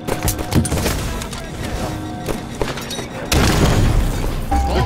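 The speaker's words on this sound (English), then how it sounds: "It's a grenade." Call of Duty gunfire and a grenade burst come in rapid booming cracks, closing with a heavy loud blast and rumbling tail.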